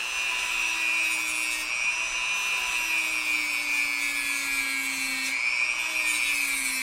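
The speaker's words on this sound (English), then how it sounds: "I'm going to try to start it with this Dremel tool. We'll see. The quick cutoff wheel." A Dremel rotary tool fitted with a quick cutoff wheel cuts through RV furnace ducting, giving a loud, steady high-pitched whine with a grinding rasp that dips slightly in pitch as the wheel bites, heard alone.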